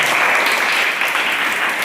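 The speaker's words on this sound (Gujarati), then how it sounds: "તાળી પાડી દો ભાઈ બધા" Robotics club students give a short burst of brisk, even applause after finishing an automatic tap project, clapping close and continuous throughout.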